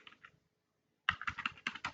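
Quick keystrokes on a computer keyboard as a Docker command is typed: a couple of taps, a short silence, then a close, crisp burst of clicking.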